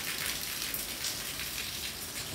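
Steady light rain hisses softly, a continuous fine patter of drops on a surface with no voices.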